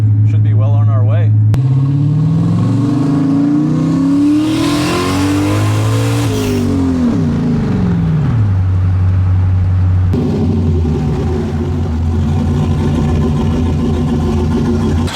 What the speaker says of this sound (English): Just drive normal, get in the throttle, get out of the throttle.